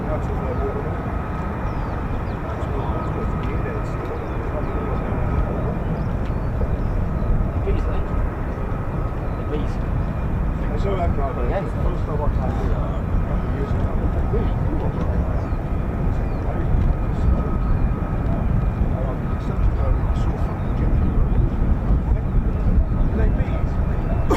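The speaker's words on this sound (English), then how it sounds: "It is F-35s." F-35 fighter jets fly over RAF Lakenheath, a loud, steady jet roar that fills the whole stretch and swells slightly toward the end, with people talking beneath it.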